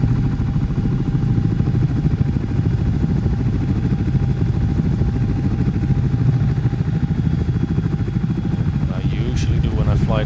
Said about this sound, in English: this helicopter